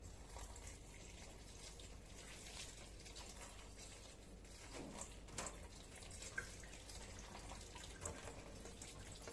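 Water poured from a carafe onto a Calathea veitchiana plant, a steady close splash and trickle with occasional clicks and clunks, heard alone without voices.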